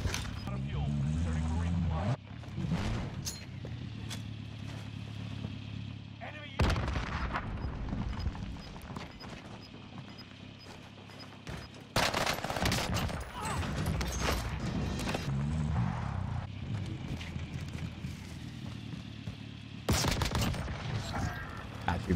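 EX1 energy-weapon fire in the Warzone video game comes in loud bursts of shots and booming impacts across the clip, with a player talking over the gameplay throughout.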